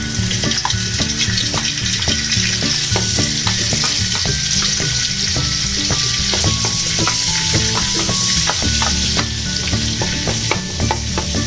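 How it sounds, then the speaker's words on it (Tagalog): Butter heats in a pan with a loud, continuous frying sizzle, close and steady, with frequent utensil taps and stirring clicks scattered through it and no talking. "Ilagay na po natin ang butter. Paiinitin natin siya."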